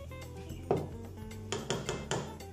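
Bread dough ingredients are mixed in a bowl: quiet scraping is followed by several sharp clinks of a utensil striking the bowl, close and fairly loud.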